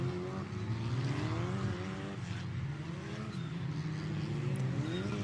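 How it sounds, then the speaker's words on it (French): French F4 single-seater with a Mygale chassis and an Oreca-prepared Renault 1300 turbo engine, droning and blowing loudly as it revs and shifts through gears, steady and close. "vous entendez le moteur turbo qui souffle véritablement"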